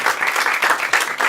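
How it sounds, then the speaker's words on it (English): An audience at a readers and writers festival applauds steadily, dense clapping from many hands that stays loud and even throughout, with no talking over it. "I think we should give a big round of applause to all the"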